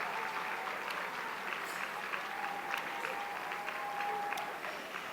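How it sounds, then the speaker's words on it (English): A luncheon crowd applauds steadily at a women's conference, filling the room with a dense, even wash of clapping. A few sharper claps stand out here and there, and the sound holds at a moderate, distant level throughout. "Please give her a round of applause."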